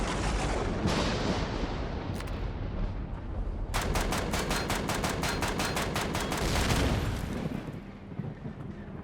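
Turret gunfire in Empyrion Galactic Survival: a loud, dense barrage of rapid automatic shots rattling in a fast, even burst for several seconds over continuous rumbling combat noise.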